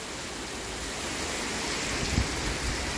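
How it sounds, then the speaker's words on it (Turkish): Summer rain in Antalya, Turkey, a steady broadband hiss of falling water that holds even and fairly loud throughout, with a brief low thump near the end and no voices. "Antalya yağmurları yağıyor."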